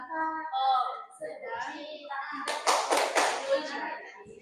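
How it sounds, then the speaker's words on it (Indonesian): Children perform the tepuk cinta clapping pattern as a classroom ice-breaker in a high school chemistry lesson: a short burst of rhythmic hand claps follows spoken lines, with voices before and during the claps. "Tepuk cinta."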